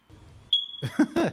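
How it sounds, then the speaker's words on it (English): A smoke alarm gives a single short, high low-battery chirp that rings on briefly, then talk starts right after it. "that's the smoke alarm chirp"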